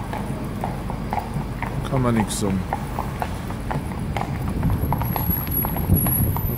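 Fiaker carriage horses in Vienna, young and new to the city, clip-clop steadily on the street, their hoofbeats mixed into traffic and city noise while people talk over them.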